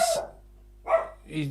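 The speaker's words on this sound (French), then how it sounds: "C'est le chien qui aboie" A dog barks three times in short sharp bursts, spaced about half a second apart, fairly close, with quiet gaps between.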